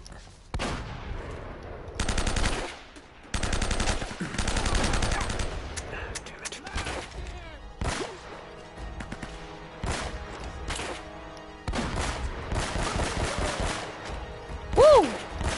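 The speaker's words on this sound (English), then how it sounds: "Stream of bullets, baby." Gunfire in the video game Uncharted: Drake's Fortune arrives in loud automatic bursts and fusillades separated by short pauses, with music and a voice calling out under the shooting.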